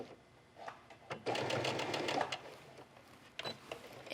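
A sewing machine stitches along the edge of a vintage linen, running in short close bursts that swell into a longer, louder steady run before stopping and starting again.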